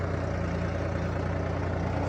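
A 3630 tractor engine runs at a steady idle, giving a continuous low, throbbing drone that stays even and close throughout, with no voices.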